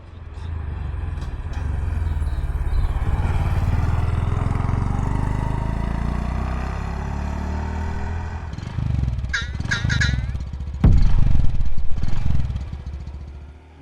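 A Honda ST125 Dax motorcycle runs while riding, its small engine giving a steady low burbling drone, rising in a brief rev near the end amid wind noise.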